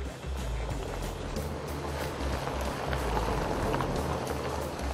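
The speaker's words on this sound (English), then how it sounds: "the only sound you hear are the tires crunching on the gravel." An electric Can-Am Commander side-by-side rolls over gravel on a trail, its tires giving a continuous close crunching hiss with a low, pulsing motor hum underneath.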